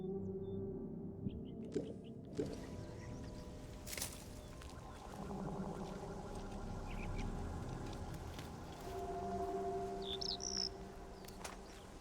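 Ambient bird sounds inside the video game Atomfall: pigeons and other birds call softly over a steady outdoor background, with a couple of brief flutters and chirps scattered through the scene and no talking.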